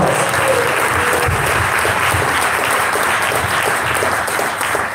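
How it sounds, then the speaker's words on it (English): A crowd at an entrepreneur and investor event applauds steadily and loudly, a dense continuous wash of clapping that holds through the whole stretch without speech. "Let's give them a round of applause"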